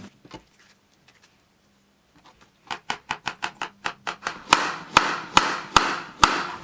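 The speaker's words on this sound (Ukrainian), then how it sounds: "Нарізаємо банани листочком" Knife slicing bananas for banana and chocolate puff pastries, a series of sharp rhythmic taps on a cutting board, starting sparse and quiet then speeding into a steady, louder run of close chops.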